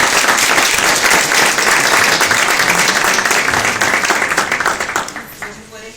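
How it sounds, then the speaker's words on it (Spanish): Sustained applause from an audience at a book launch in Valencia honouring a speaker, dense, steady clapping filling the room for several seconds before tapering off at the end. "Yo pido un aplauso para Iván, por favor"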